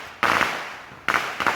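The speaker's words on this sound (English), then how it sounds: "My neighbors are shooting fireworks 2 nights after the 4th." Fireworks set off by neighbours two nights after the Fourth of July: sharp, loud cracking bursts, one then a pair in quick succession, with brief crackle between and no talk.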